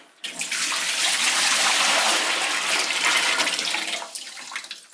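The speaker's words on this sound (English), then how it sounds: "we're going to pour all of this solution out" A steady rush of liquid solution poured out of a Pinter home-brewing vessel close by for several seconds, starting abruptly and tapering off at the end.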